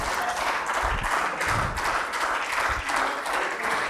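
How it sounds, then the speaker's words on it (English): Audience applause at a university MOU signing ceremony, steady dense clapping from a sizable crowd with a few louder claps standing out, sustained throughout without talk. "Let's keep the applause going as we know this is a historic event"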